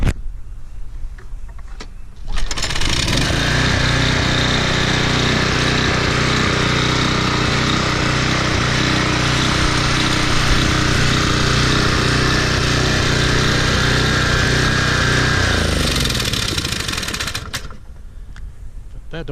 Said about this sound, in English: this engine's over revving